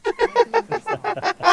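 A bird in the Destiny video game honks in a rapid series of about nine goose-like calls, loud and close, evenly spaced in quick succession.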